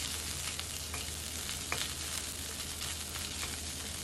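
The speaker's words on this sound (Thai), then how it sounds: "หลังจากนั้นก็เอาพริกแกงใส่ลงไปค่ะ" Thai red curry paste stir-fried in a hot pan for a pork and stink bean dish, a steady broadband sizzle with occasional scraping stir strokes and small pops, close and continuous with no talking.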